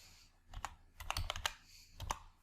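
Quiet keystrokes on a computer keyboard while text is entered into a spreadsheet box, a few scattered clicks and short bursts of taps, close but faint, with no voice.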